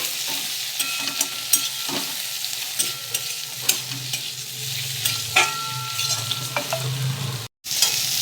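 Chopped onion and tomato fry together in a pan, a steady sizzle with repeated stirring scrapes and clicks from a utensil, close and alone, cutting off briefly near the end.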